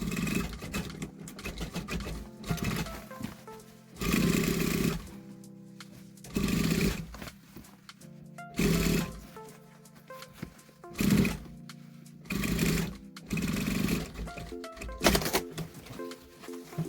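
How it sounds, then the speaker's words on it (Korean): A sewing machine stitches a bag made from a denim skirt in short, loud bursts of rapid whirring, repeated about seven times with quieter gaps between them. "일단은 이렇게만 일단 박음질을 해주세요"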